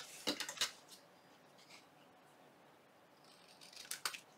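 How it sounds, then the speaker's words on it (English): Scissors snip the corners off paper for a junk journal note pad tag: two quick crisp cuts, a quiet pause, then two more snips, close and light. "So let's go ahead and just cut a corner and then turn it on the other side and cut this."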